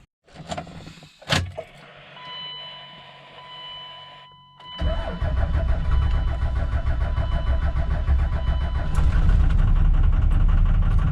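A 24-valve Cummins diesel in a 1998-2002 Dodge Ram cranks briefly after a VP44 fuel line install, then catches and settles into a loud, steady rumbling idle that continues to the end, no voices.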